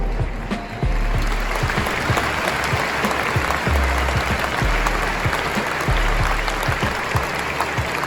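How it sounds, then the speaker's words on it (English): A football crowd at Watford's stadium breaks into a sustained minute's applause, dense rippling clapping from thousands of hands that carries steadily without pause. "paying tribute to a true Watford legend with a minute's applause"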